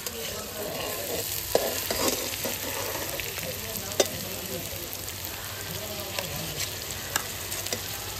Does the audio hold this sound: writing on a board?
no